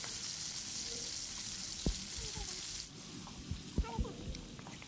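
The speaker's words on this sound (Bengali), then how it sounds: "নিচের পাশটা হয়ে গেলে চিকেনগুলোকে এখন উল্টিয়ে দিচ্ছি" Chicken pieces frying in a pan give a steady, fairly quiet sizzle, broken by a few soft knocks and clicks as the pieces are flipped over.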